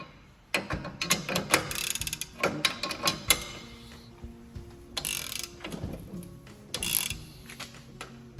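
Wrench turning the bolt of a ball joint puller on a Subaru Legacy suspension, heard as bursts of close metallic ratcheting clicks and clanks in uneven groups with brief pauses between, no talking.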